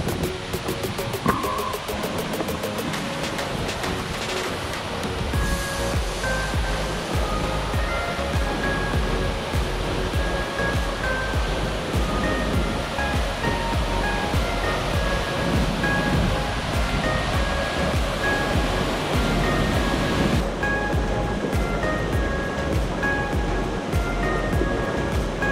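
The El Torito waterfall roars as a steady, dense rush of falling water, loud and continuous throughout with no pauses.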